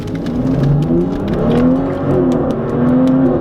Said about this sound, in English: You just hit the gas and the car just goes.